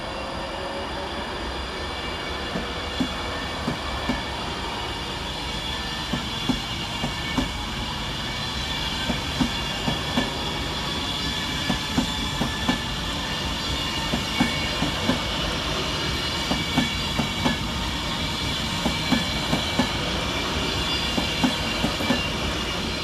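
A Class 390 Avanti West Coast Pendolino train departs Stockport station, a steady rumbling traction hum with rhythmic wheel clicks over rail joints building through the pass, loud and sustained without any speech.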